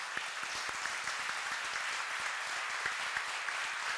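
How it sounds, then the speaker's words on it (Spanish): Audience applause at a tribunal homage ceremony, a continuous patter of many hands clapping, fairly distant and soft, sustained evenly with no talk over it. "se pone de pie para aplaudirlo y rendirle un homenaje merecido"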